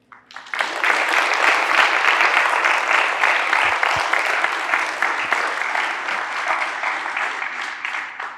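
An audience at a high school excellence in education ceremony welcomes Coach Ernie with loud, sustained applause that starts abruptly and holds steady for several seconds before tapering slightly, with no talk over it.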